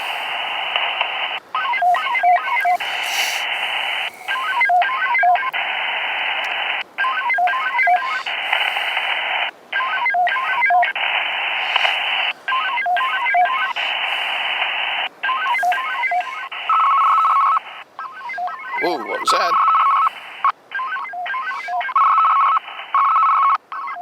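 Steady amateur radio digital-mode transmission tones warble continuously, broken by regular short gaps in a repeating rhythm, loud and close with no voices.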